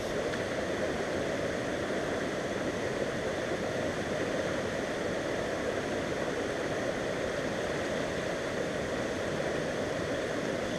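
Water from a pump pours steadily through a gold sluice while gold sniping a mineralized vein, a dense continuous rushing wash that holds level for the whole stretch with no talk over it.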